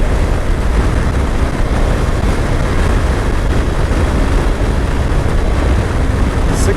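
Suzuki GSX-S1000GX sport tourer cruising in sixth gear, a steady loud engine drone blended with heavy wind rush, continuous and unbroken throughout.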